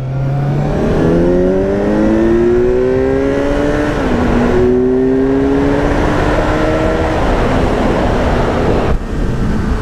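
A four-cylinder Kawasaki Z900 (2018) motorcycle engine revs up loudly, its pitch climbing in long rising sweeps, then drops and climbs again before a sudden cut.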